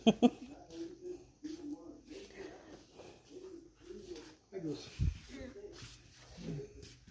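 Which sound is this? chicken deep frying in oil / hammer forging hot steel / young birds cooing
young birds cooing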